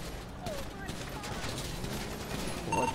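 Police gunfire in a video game, a dense, continuous rattle of shots heard fairly close, with voices talking over it.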